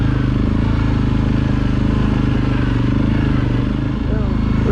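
ATV engine droning steadily while riding along the Black Lake off-road trail in Michigan, a loud, close, continuous low rumble with a slight waver near the end.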